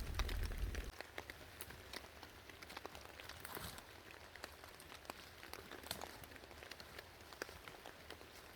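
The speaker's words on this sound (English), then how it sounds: "Well, it looks like the rain might turn to snow." Wet snow mixed with rain falls outdoors during hunting season, a faint, steady patter of drops tapping surfaces throughout, with a brief louder low rumble at the start.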